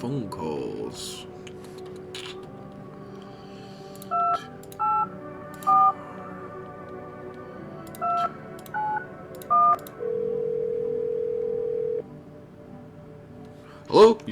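Telephone keypad dial tones in a horror video game, a series of short separate DTMF beeps entered one by one over a low ambient hum, followed by a longer steady tone like a ringback, with a brief click at the end.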